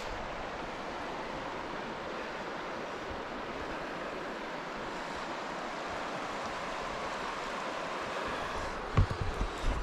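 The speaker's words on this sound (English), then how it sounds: "Got a little ice in the stream, but nice and sunny." A small stream with a little ice flows steadily outdoors on a sunny day, a continuous rushing wash of water with a few brief knocks near the end.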